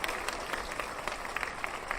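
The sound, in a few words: applause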